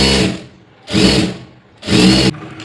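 Three loud, close bursts of a sewing machine motor stitching a half-inch seam on a blouse, each run about half a second long with short silent pauses between.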